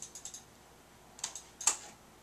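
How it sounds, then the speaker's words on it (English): Number keys on a computer keyboard tapped during photo-editing work, several quick clicks close by, first a rapid cluster and then a few spaced, sharper presses, with no talking. "So I'm hitting Alt, and I'm hitting like 2, 3, and 4 on the keyboard to adjust the pressure."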